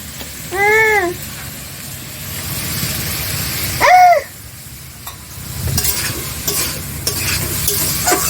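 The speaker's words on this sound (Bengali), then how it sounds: "সব মশলা দিয়ে ভালোভাবে কষানো হয়ে গেছে, নুন দেওয়া হয়ে গেছে" Spices and salt are stir-fried in a pan for a banana stem and potato dish, with a loud, steady sizzle and scraping stirs. A rooster crows twice in the background.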